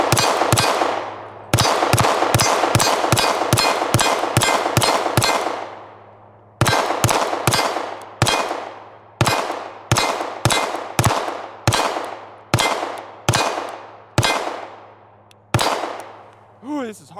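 A Glock V pistol fires loud close shots in rapid strings, each crack ringing out with a metallic clang and decay, broken by short pauses between bursts.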